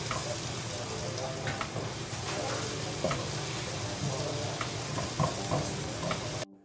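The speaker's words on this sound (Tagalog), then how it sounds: "Simulan na din natin ang paggisa dun sa same na kawali kung saan tayo nagluto. Syempre, bawang at sibuyas lang yan." Garlic and onion sautéing in a pan already used for cooking, a steady close sizzle with intermittent stirring scrapes and light clinks, cutting off abruptly at the end.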